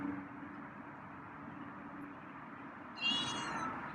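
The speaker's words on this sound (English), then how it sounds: "there's another meow." A feral cat lets out a short meow near the end, standing out above a steady low background hum, with nothing else happening before it.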